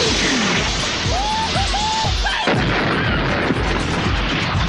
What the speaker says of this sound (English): What's that? Mortar fire?